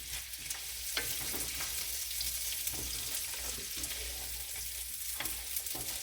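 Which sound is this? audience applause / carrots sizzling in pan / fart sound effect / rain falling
carrots sizzling in pan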